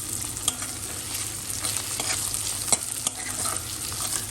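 Boiled potatoes stir-fry in a hot tempering for poha, giving a steady close sizzle broken by scraping stirs and brief clatters, with no talk.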